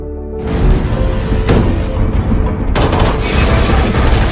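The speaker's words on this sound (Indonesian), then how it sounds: "Sesampainya di apartemen Joe, mereka langsung menembak ke segala arah." Rapid gunfire in a film action scene as armed men storm an apartment and shoot in every direction; loud dense bursts and booms continue throughout, with a sharp surge of shots near the end and no talk.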